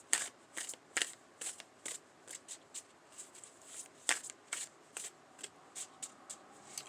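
A tarot card deck is shuffled close up in repeated crisp riffling bursts, irregularly spaced with short pauses between them, fairly quiet and with no voices.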